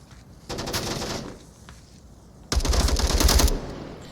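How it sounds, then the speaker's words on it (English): Gunfire in the Onward VR shooter during a competitive match, two bursts of rapid automatic fire, the first around a second long and the second louder, heavier and closer, with quieter gaps between them. "Oh, more shots are being had."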